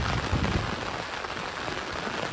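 Heavy rain pours onto surfaces during a stormy monsoon downpour with strong wind, a dense, loud, unbroken hiss that fills the whole moment with no voices.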